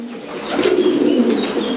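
Several pigeons coo together in a steady low murmur, close and continuous, filling an enclosed loft of long-distance racing pigeons.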